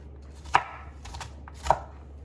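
A knife dices bacon on a cutting board, two sharp chops about a second apart with faint lighter taps between, close and without talk.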